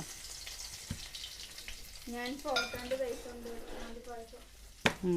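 Ginger and garlic frying in hot oil: a steady close sizzle with stirring, a voice talking over the middle part, and a sharp clink near the end.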